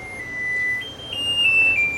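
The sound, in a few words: kitchen oven timer going off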